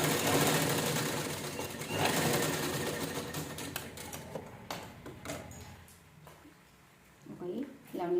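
A sewing machine stitches along a zipper on a one-side purse, a steady rapid mechanical whirring that slows and stops partway, with someone talking over and after it.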